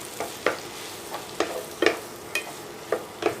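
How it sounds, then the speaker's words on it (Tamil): Grated pumpkin being sautéed and stirred in a pan for halwa, with a soft sizzle under repeated scraping strokes of a spoon roughly every half second, close and moderately quiet, no voices. "இப்போ இதை நல்லா வதக்கிக்கலாம்"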